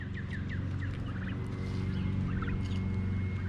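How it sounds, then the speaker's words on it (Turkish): Turkeys gobbling on a small farm, with repeated rapid gobbles at close to moderate range over a steady low hum and scattered bird chirps. "Burada da hindilerim var arkadaşlar."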